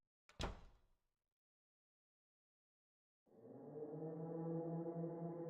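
A chained door is tried once with a single heavy, close thud, followed by about two seconds of silence and then a steady, loud, low droning hum that runs to the end.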